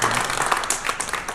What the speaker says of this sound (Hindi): तालियां बजाइएगा इसके लिए।